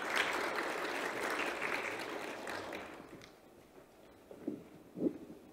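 Audience applause fills a public hearing hall, a steady broad clatter of many hands that holds for about three seconds, then thins out, leaving a few scattered soft claps and taps near the end.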